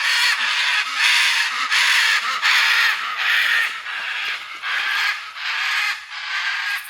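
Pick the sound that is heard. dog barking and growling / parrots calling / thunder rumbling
parrots calling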